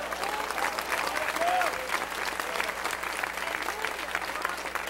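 Church congregation applauding during a Portuguese-language sermon, a steady, fairly even wash of clapping lasting throughout, with faint voices mixed in.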